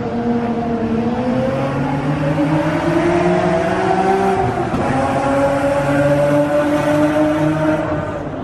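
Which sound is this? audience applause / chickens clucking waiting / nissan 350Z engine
nissan 350Z engine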